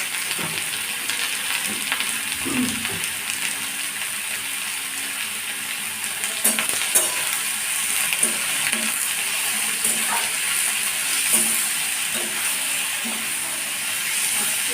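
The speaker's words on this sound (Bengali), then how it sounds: "পেঁয়াজটা যখন তেলের উপর দিয়েছিলাম তখন একটু নুন দিয়ে দিলাম তাহলে তাড়াতাড়ি পেঁয়াজটা ভাজা হয়ে যাবে" Onions frying in oil with a pinch of salt, a steady close sizzle with occasional scraping and clinks as they are stirred in the pan, no voices.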